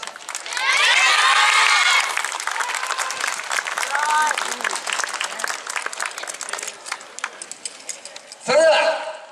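An outdoor crowd at the Hitachi-no-kuni YOSAKOI festival cheers, claps and shouts loudly, peaking early and then carrying on as busy applause. A voice calls out briefly near the end.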